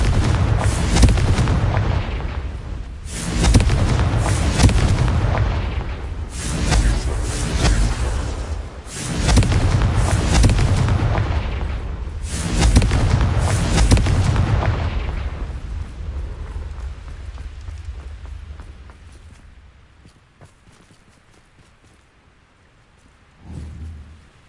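Booming Confringo explosion spells in Hogwarts Legacy go off in loud, heavy bursts, four or five blasts in quick succession, then fade to quiet with one last thud.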